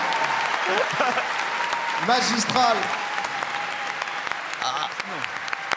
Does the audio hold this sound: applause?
yes